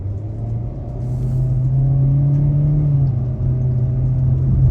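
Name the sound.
2023 Kia Seltos LX AWD accelerating at a third throttle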